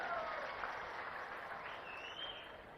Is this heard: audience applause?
yes